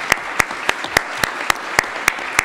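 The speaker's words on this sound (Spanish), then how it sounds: "Un gran aplauso a Alejandro, ¿no?" Audience clapping for the editor at a book launch on animals and the sacred precinct of Tenochtitlan, a steady run of sharp, evenly spaced claps from a nearby crowd with no talk over it.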